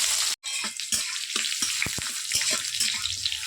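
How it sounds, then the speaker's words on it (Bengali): Dried red chillies, black cumin and chopped onion dropped into hot oil for a Bengali potato and masoor dal dish, giving a steady close sizzle with a brief gap near the start and scattered clinks of a utensil in the pan. "এবার ফোড়নে দিয়ে দেবো শুকনো লঙ্কা আর অল্প কালো জিরা আর পেঁয়াজ কুচি"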